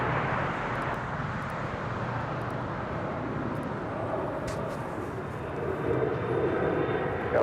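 Spirit Airlines jet on its takeoff roll from runway 25 right at LAX, a steady broad engine roar heard from a distance without a break, swelling slightly toward the end.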